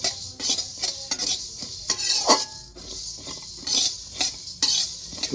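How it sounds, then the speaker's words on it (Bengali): Whole coriander and cumin seeds are dry roasted in a wok and stirred, giving a steady run of close scraping and rattling strokes with faint sizzling and no talk. "আমি গ্যাসে একটা কড়াই বসিয়ে এরকম গোটা ধনে আর গোটা জিরে আমি ভেজে"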